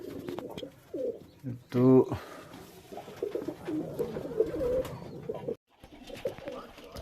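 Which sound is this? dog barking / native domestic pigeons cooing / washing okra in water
native domestic pigeons cooing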